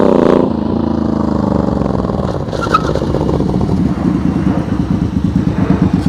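A motorcycle rolls in at low speed during a slow-speed riding skills practice session, its engine chugging with steady, rhythmic pulses that stay fairly loud and close throughout.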